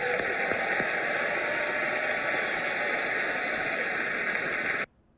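Steady, dense applause from a studio audience at a late-night talk show, loud and continuous for nearly five seconds before cutting off abruptly.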